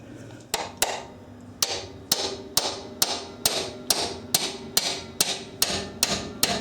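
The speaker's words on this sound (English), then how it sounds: "So just placing the chisel right in back of that axle." A hammer strikes a chisel set just behind a car axle, about fifteen sharp metallic blows in a steady rhythm, close and loud with short ringing decays, no voices.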